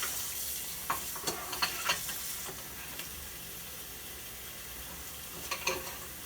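A protein pancake frying in a pan gives a soft, steady sizzle, faint and close, dotted with small ticking pops and light scrapes, with no talking.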